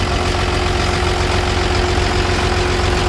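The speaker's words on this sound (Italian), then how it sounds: "Signori, un bel motore questo qua, 6 cilindri Volvo turbo con la turbina," A Volvo FL fuel tanker truck with a six-cylinder turbocharged diesel engine runs steadily at idle, a loud close rumble with an even low throb and a faint turbo whine, no talking.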